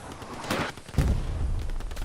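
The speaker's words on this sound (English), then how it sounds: "by all the artillery and explosions going off" Artillery and explosions in the video game Hell Let Loose, a few sharp gunfire cracks and a heavy booming blast amid a continuous chaotic battlefield din, moderately loud.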